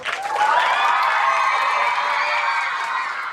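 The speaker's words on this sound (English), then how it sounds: "If you're wondering what all the cheering is about" A large crowd of children cheering, whooping and clapping for author Jeff Kinney, loud and sustained throughout with high excited voices blending into a steady roar.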